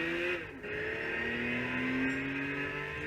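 A race car engine revs steadily in Gran Turismo 6 at Watkins Glen, with a brief dip as the car shifts gear almost at once before it climbs again, loud and close with no talk.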